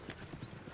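Horse hooves clip-clopping at a gallop in Red Dead Redemption 2, a quick, steady rhythm of hoofbeats up close with a faint whinny, over a dense, rumbling bed of movement noise.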